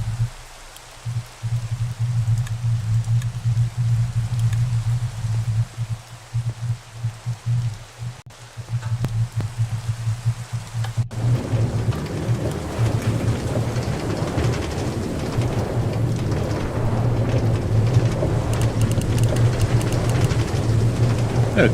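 Rain and thunder in Minecraft, a steady low droning hum under a rushing downpour that swells louder partway through, with a rumbling thunder texture and no voices.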